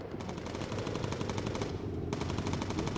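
Sustained rapid machine gun fire with incendiary rounds from a bomber's turret in Bomber Crew, a dense continuous rattle of shots running loud and steady for the whole stretch, with no voices.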